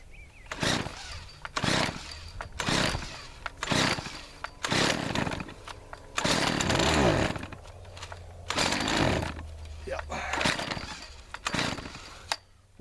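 A thrift-store Weedeater PE550 gas edger with a carburetion problem revs in repeated rough bursts, its small two-stroke engine surging up and dropping off again and again, loud and close, with no talking.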